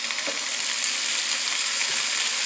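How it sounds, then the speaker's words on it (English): Thick bacon sizzles on a Blackstone E-Series 17-inch electric tabletop griddle set to 425, giving a steady close hiss and crackle of frying fat with no talk. "I bet if I had it at 450, it would have really sizzled, but you get a sizzle"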